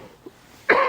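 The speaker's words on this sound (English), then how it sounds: "Sorry for the coughing, y'all." A single sharp cough bursts out near the end after near silence, close and fairly loud, with a faint throat sound just before it.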